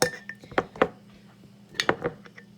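A spoon scrapes brownie batter ingredient out of an upturned jar, giving a few sharp clinks and scrapes against the glass in two short bursts with quiet between them.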